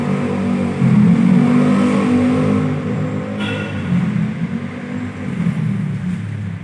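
A 2 HP air compressor runs close by with a loud, continuous motor drone that rises briefly and then settles, its level shifting slightly throughout.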